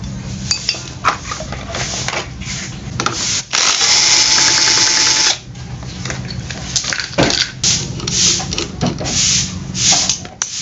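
A power tool loosening screws on a stator coil housing, giving a loud buzzing whir for about two seconds, surrounded by metallic clinks, knocks and handling noises from close by.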